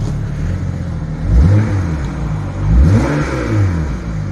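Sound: BMW 335xi exhaust revving with both flaps open

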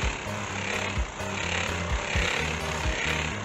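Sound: pneumatic board sander with 40 grit sandpaper on boat hull

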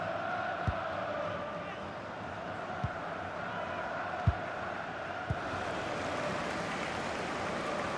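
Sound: stadium crowd cheering in FIFA 19 video game

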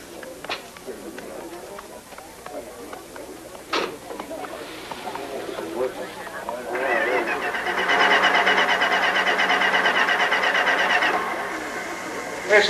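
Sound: car engine failing to start

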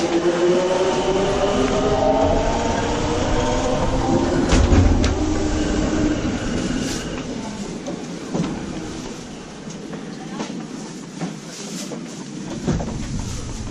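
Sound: train riding

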